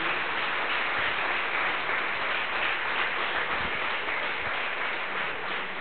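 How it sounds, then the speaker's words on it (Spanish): A congregation at a church sermon gives the Lord a strong round of applause, a steady, muffled and fairly quiet wash of clapping with no speech over it. "Démosle un fuerte aplauso al Señor."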